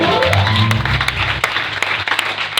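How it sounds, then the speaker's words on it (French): A congregation applauds during a prophetic worship service, with steady, dense clapping filling the space over a low sustained musical hum. "Oh, acclame."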